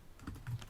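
Brief run of a few soft keystrokes on an Orange Pi 800 computer keyboard while entering a terminal command, quiet and close with no talking.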